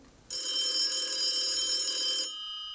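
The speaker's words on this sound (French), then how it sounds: "tout d'un coup le téléphone a sonné" A telephone bell rings in one continuous metallic burst lasting about two seconds before cutting off, clear and close with nothing else around it.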